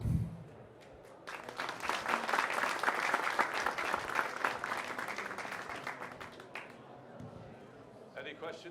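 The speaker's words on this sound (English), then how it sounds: "round of applause, please." An audience at the KosICT 2023 tech conference applauds after an IPsec talk, a dense sustained round of clapping that swells and then fades, with a little speech near the end.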